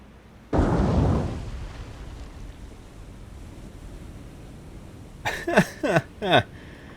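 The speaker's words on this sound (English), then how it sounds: "Out of those 6 torpedoes, you can see 2 of them hit her." A torpedo strikes a ship in the naval combat game War on the Sea with one sudden, muffled explosive boom that fades into a low wind-and-sea rush, followed by a few short rising tonal sweeps near the end.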